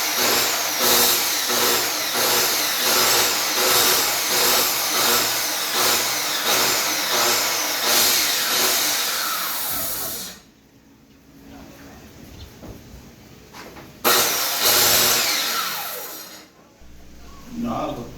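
A circular saw cuts through wood while a king-size bed frame is being repaired, its whine rising and falling in rapid repeated passes, then dropping away before a last loud burst of cutting.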